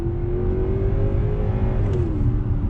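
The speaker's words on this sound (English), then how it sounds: "We're in the Genesis G90 Ultimate with the V8 on throttle." A Genesis G90 Ultimate sedan with a naturally aspirated V8 accelerates, a smooth, muted engine drone rising steadily in pitch before easing slightly, heard from inside the cabin with low road rumble beneath.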